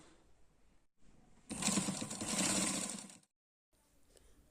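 A sewing machine stitching a velvet suit runs in a steady, close mechanical whir for under two seconds, framed by quiet handling noise before and after, no talking.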